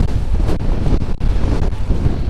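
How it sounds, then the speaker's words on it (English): Strong wind buffets the microphone of a cyclist riding on a road in loud, gusty roars with brief dips, and no voices are heard. "Real windy, man. Wind is moving me around a good bit."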